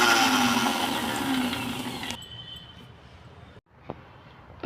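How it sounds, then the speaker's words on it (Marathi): A mixer grinder whirs loudly while grinding soaked semolina, then cuts off abruptly midway, leaving quiet room sound and a brief click. "रवा बारीक करून घ्यायचा आहे मिक्सरवर भिजवलेला"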